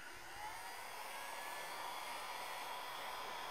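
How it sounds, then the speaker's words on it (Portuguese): A heat gun's steady, loud airy blowing roar with a high whine runs evenly throughout, close up and without pause. "vou ligar o secador aqui para vocês verem. O secador não, o, o soprador."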